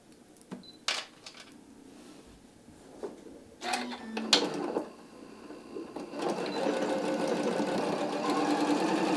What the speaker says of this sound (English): I'm going to sew it a quarter of an inch